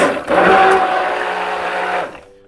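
Stick blender whirring steadily in nettle tea shampoo bar soap batter, a loud close motorized hum running for about two seconds before cutting off.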